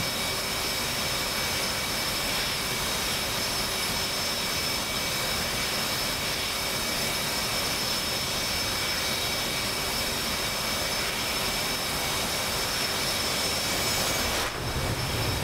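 Steady, loud jet engine roar from a simulated jet aircraft in DCS landing on a runway, a continuous broadband rumble with a sharp change near the end as it touches down.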